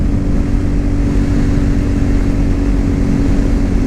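A Cougar Vitacci XMT 250 motorcycle cruising in 6th gear at about 55 mph and 5,500 RPM, with a steady, loud engine drone mixed with heavy wind rush and no talk.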